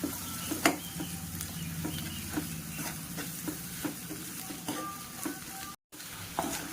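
Onions being stirred in a hot pan with salt, chili powder and turmeric, a steady sizzle broken by repeated scraping strokes of a spoon, close and alone.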